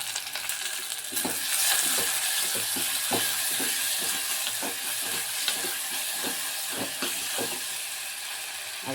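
Green chillies and two tomatoes fry for rasam in a steady, close hiss of sizzling oil, broken by repeated light scrapes and taps of stirring.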